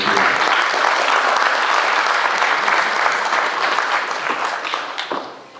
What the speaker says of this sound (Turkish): Alkışlayalım lütfen.